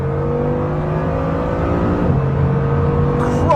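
A Bugatti in a video game accelerates hard along the autobahn, its engine note rising steadily and continuously for several seconds, loud and close, with a brief higher whine near the end.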